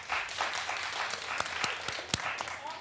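A television talk show studio audience claps to vote yes, a dense burst of applause with a few sharper individual claps standing out near the end.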